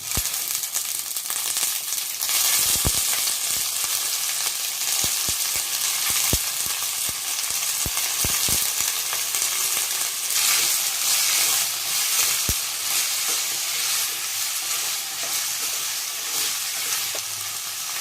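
Onions sizzling steadily in hot oil in a pan for brinjal rice, with a loud continuous hiss broken by sharp scraping clinks of a spoon stirring, and a surge of sizzle as chopped brinjal goes into the pan.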